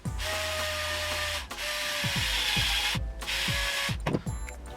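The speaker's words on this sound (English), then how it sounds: "And I'm going to use my power drill." A power drill driving a screw whirs in short bursts, with brief pauses and a ratcheting, clicking mechanical rhythm as it spins up and stops several times.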